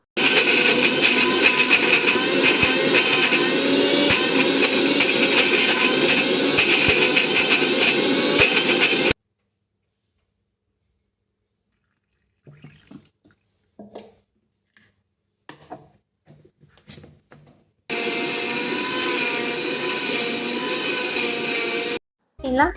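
A mixer grinder blending tomato chutney with fried ingredients and coriander, a loud, steady whirring motor running in two bursts separated by a pause with faint handling clatter.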